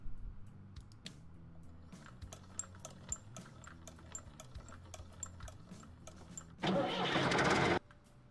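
Tank engine starting up in Tank Mechanic Simulator, a burst of loud roaring noise after many sharp clicks and ticks, near and alone.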